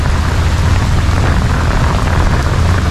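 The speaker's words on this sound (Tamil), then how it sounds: "அம்மா மழை ஃப்ரெண்ட்ஸ் அடிச்சு பிடிச்சி வருது." Heavy rain pours down steadily and loudly during an auto-rickshaw ride from Ponmudi hill toward Kovalam, a dense continuous wash of water with a deep rumbling low end and no talk.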